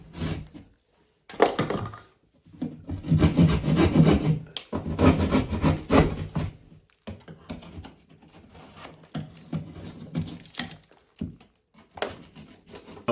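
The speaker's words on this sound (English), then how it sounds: "I'm actually going to cut this drywall on this stud" Sharp knife cutting through drywall along a stud during a doorknob damage repair, giving repeated rough scraping, rasping strokes in uneven bursts with short pauses, close and fairly loud.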